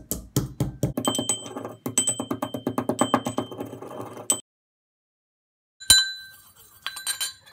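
Three vitamin C tablets are crushed into powder for a skin cream, making rapid rhythmic grinding taps and hard clinks, then a pause and a few more scattered clinks.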